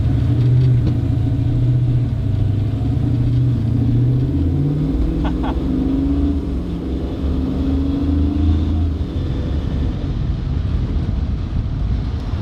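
Engine of an original Mazda RX-7 revving with a loud, steady rumble that rises and falls briefly, close by, continuous throughout with no talk.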